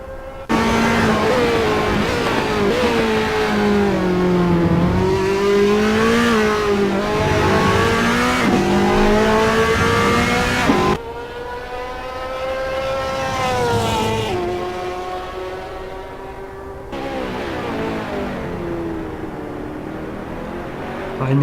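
Race cars lapping Silverstone in a sim racing game, engines droning loud and steady with rising and falling revs through corners, a brief drop in tone midway before the roar resumes.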